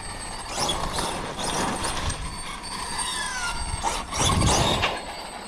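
Losi 5ive TE RC car drivetrain unloading, a grinding whir with rising and falling squeals and bursts of mechanical noise that swell near the end.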